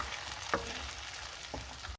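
Tomato, onion, green chilli, garlic and ginger puree hits a hot frying pan for dhaba-style dum aloo, giving a steady, close sizzle with a couple of brief soft stirring scrapes and no talking.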